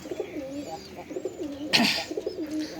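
A pigeon being released outdoors, with soft cooing and a brief burst of wing flapping as it takes off, close and moderately loud.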